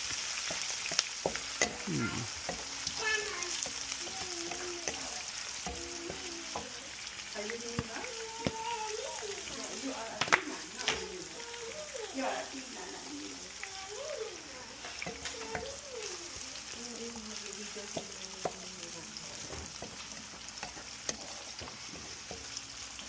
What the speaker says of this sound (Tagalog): tapos add na natin yung ating sibuyas